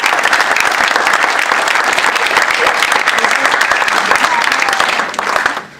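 Church congregation applauding to acclaim the Lord during a youth conference worship session, a loud, dense, sustained wash of clapping that holds steady for several seconds before tapering off at the end.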